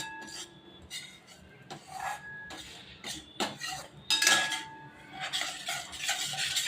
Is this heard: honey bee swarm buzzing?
no